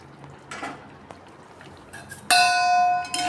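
A metal lid lifts off a pot of simmering soybean and potato curry with a sharp clatter and a ringing metallic tone that fades, after quiet kitchen sounds.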